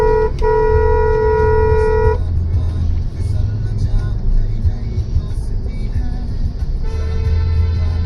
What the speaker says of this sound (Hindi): आप देख सकते हैं अभी यहाँ पे ना थोड़ा ट्रैफिक है।